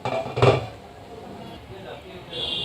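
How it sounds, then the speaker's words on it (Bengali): Metal lid lifted off a cooking pot of bottle gourd being braised, a single brief clank near the start, followed by quiet kitchen background. "এখন ঢাকনাটা তুলে"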